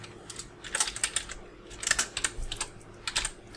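Typing on a computer keyboard: bursts of quick clicking keystrokes in several short runs, close and moderately loud with brief pauses between.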